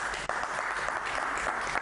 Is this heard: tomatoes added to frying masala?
no